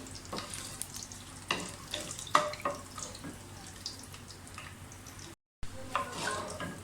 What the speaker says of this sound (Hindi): तो ऐसे सौते कर लें इनको